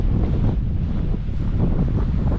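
Strong wind roars steadily across the microphone at Iona Beach Regional Park in Richmond, BC, with a continuous heavy rumble and possible surf mixed in, no voices.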